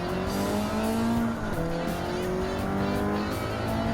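Race car engines drone loudly in Gran Turismo 7, with several pitch lines rising and dropping through gear changes and a tire squeal mixed in. A pack of cars is passing close, with no talking.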